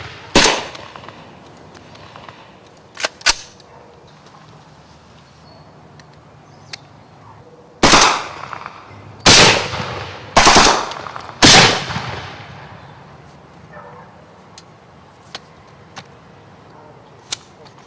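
Soldiers fire guns on command, Civil War style, in a few loud sharp cracks, a single shot early, then a ragged group of close, separate blasts, with quiet pauses between and no talking.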